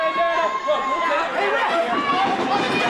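A New York Championship Wrestling crowd rumbles in a steady, dense roar of chatter and shouting, with loud voices on top throughout.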